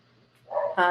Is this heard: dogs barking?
yes